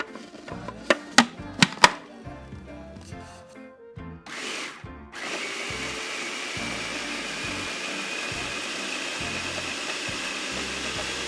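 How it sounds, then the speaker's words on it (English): A blender whirs steadily as it purees dried fruits, including cherries, raisins and currants, for a Jamaican vegan fruit cake. Sharp knocks and clatter come first, then a brief whir before the motor settles into a continuous loud drone. "We're going to puree our fruits"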